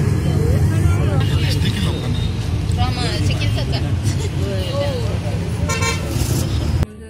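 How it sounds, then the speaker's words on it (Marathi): A passenger bus heading toward Mumbai drones steadily from inside, its low engine rumble continuous beneath overlapping chatter, a few short horn toots from traffic, and the hum dropping abruptly near the end. "तर आमची बस निघाली आहे मुंबईकडे।"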